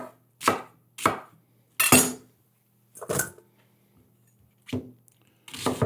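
A knife chops onion, celery and carrot into large chunks on a board, about seven separate sharp cuts spaced roughly half a second to a second apart, close and crisp with quiet between them.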